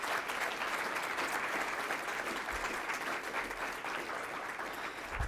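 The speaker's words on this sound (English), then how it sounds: "Let's give them a round of applause one more time." An audience at a Columbus Metropolitan Club forum gives a sustained round of applause, steady dense clapping filling the room from start to finish.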